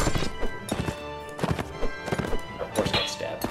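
Horse hooves pounding in the medieval combat game Mount and Blade: Warband, a run of quick, irregular thuds and clatters up close, layered with other battle noise and a voice talking over them.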